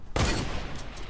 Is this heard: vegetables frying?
no